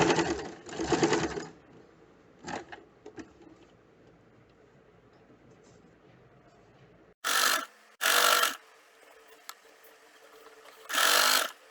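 Sewing machine stitching right beside the elastic of a puff sleeve, running in several short bursts: two quick runs at the start, a long quiet stretch with small clicks, then three loud close bursts near the end.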